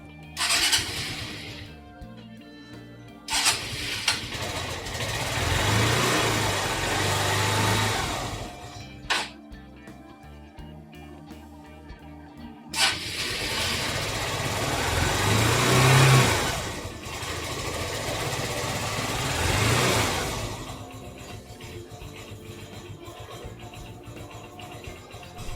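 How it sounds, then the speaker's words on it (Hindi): A motorcycle self-starts on a homemade 12V 6Ah LiFePO4 battery: several cranking bursts with pauses between, then the engine catches and runs, revving up and down before settling into a steady idle. "तो अब इसके बाद हम अपनी जो बाइक है उसे स्टार्ट करके देखते हैं।"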